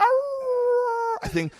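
A voice imitates a coyote howl, a steady wavering howl held for about a second before cutting off into a brief spoken sound, fairly quiet and close.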